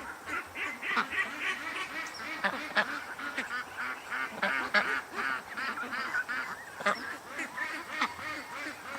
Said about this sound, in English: And it looks like the geese are coming back.